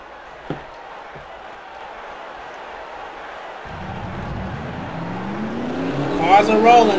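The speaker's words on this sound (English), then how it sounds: "Drivers, start your engines!" NASCAR race car engines fire up and rev in a racing video game, a low rumble building steadily and rising to a louder revving swell at the end, following a short announcer call.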